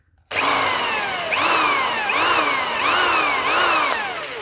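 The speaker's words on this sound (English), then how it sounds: "Just take your drill off hammer action." A power drill with hammer action switched off bores a hole while a camera is mounted on a face panel during a security installation. Its loud, close motor whine rises and falls in repeated surges, with no talk.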